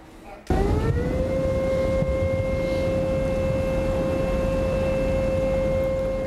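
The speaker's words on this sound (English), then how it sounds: "Those are the warning sirens, warning of a levee breach in Illinois." Civil defense warning siren sounding for a levee breach at Gulf Port, Illinois, starting abruptly then rising into a loud, sustained steady tone with harmonics, held continuously over background noise.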